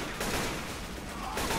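AK rifle fire in Left 4 Dead 2, delivered as a rapid, dense burst of loud gunshots that continues without pause through the whole short stretch.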